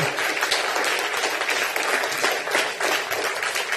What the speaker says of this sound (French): j'aimerais qu'on applaudisse bien fort Gérard